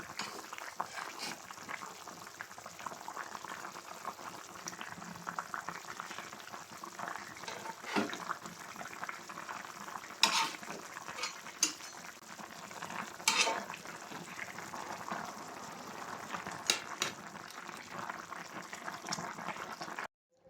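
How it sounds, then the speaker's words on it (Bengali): Cauliflower curry with rohu fish bubbles in a pot, a quiet, steady simmer with occasional louder stirring clinks and scrapes throughout. "আমার তরকারিটা বলক আসছে"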